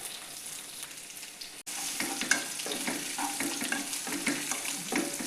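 Green chillies slit lengthwise sizzle and fry in hot oil in a pan after curry leaves, for a Tamil tomato kadayal; steady close crackling spitting with occasional stirring clinks, no talk.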